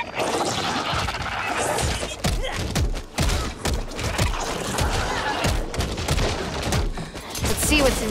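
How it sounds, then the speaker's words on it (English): Back 4 Blood gunfire rattling in continuous dense volleys with thumps and crashes, loud and close throughout, mixed with other game noise. "Why are you shooting at me?"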